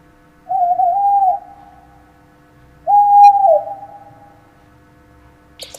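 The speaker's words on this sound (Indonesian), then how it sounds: "Owl, burung hantu." Two long, smooth owl hoots, each a sustained tonal call lasting about a second, separated by a pause and heard clearly against a silent background.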